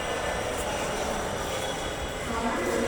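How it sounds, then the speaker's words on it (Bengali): A Dhaka metro rail train runs with a steady broadband rumble and rushing roar, close and loud for the whole short stretch, without clear individual clacks. "মেট্রো রেল স্টেশনে যে কোনো মুহূর্তে আসবে"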